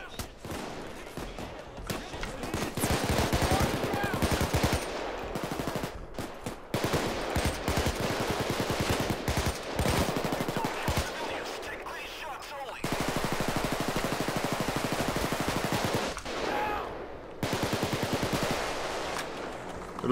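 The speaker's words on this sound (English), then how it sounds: "Loads of gunfire." Video game gunfire in Payday 2, with dense automatic bursts and rapid shots rattling almost nonstop for twenty seconds, loud and close, broken by brief pauses, with voices now and then under the shooting.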